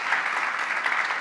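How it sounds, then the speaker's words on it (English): An awards ceremony audience claps for a philanthropist's support and new partnership, a brief burst of dense, loud applause from many people sustained evenly throughout, with no voices over it. "please join me in a round of applause for this support and new partnership."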